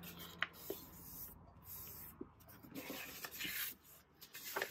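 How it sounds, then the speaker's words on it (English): Papers being folded in half for a junk journal, giving soft rubbing and crisp rustling strokes with a few light taps, close by and with no voices. "these papers here, we can fold these in half as well, because it just makes it easier to cut them down"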